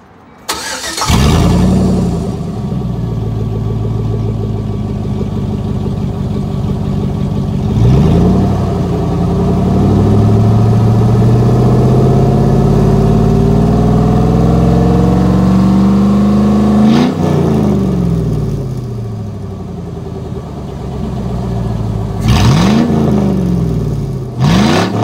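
A 4.8L Vortec truck engine with the muffler deleted cranks and fires, then idles loudly up close and revs several times in rising and falling sweeps, with a sharp throttle blip near the end.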